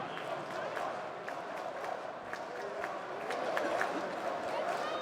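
Big esports arena audience at the CS:GO Stockholm Major 2021 grand final, NAVI vs G2, a dense, steady roar of cheering and clapping that builds toward the end, with a commentator talking over it.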